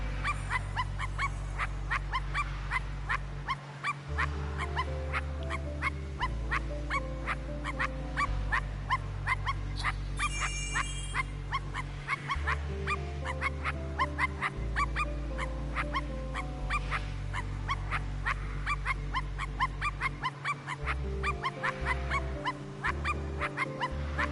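A dog in the video game I Am Dead barks and yips steadily over a constant looping game drone, with short whimpers mixed in, clear and close throughout.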